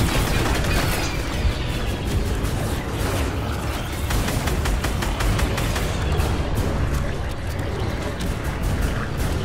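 Rapid gunfire from the Fortnite Chapter 2 end event fills the clip, dense bursts of shots and booms running loud and continuous throughout with no talk.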